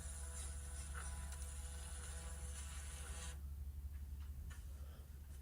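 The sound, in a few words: VLP-100 scale label printer calibrating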